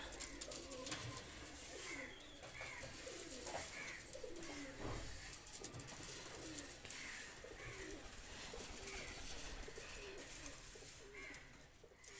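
Pigeons cooing in soft repeated low calls at moderate distance, a steady series of coos over a quiet background with occasional faint rustle.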